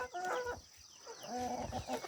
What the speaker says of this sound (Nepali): यो चाहिँ ठुलो कुखुराहरू हो।